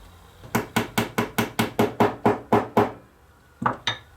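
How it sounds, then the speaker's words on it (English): Ten evenly spaced sharp taps of wooden dowels being driven into nail heads in a woodshop, close and crisp, followed by a brief pause and two quicker taps at the end. "it doesn't hurt to tap them in like that to make sure that they're properly seated"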